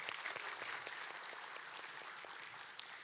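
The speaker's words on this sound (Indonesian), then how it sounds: "Jadi tepuk tangan Anda sebagai tuan rumah pertama." An audience in a university auditorium applauds steadily, a dense even wash of clapping that stays level for a few seconds at a moderate distance.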